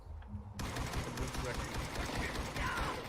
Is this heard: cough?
no